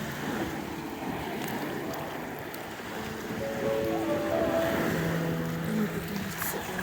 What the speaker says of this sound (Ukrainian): Дивіться, яка хвиля